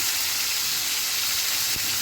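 Fish fries slowly over low heat, a constant bright sizzle of oil held at an even level, broken by one brief knock near the end; nobody speaks.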